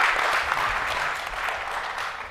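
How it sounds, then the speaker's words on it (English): A conference audience applauds the panelists with steady, moderately loud clapping that swells and eases slightly over two seconds, heard alone with no talking. "Let's give him a round of applause."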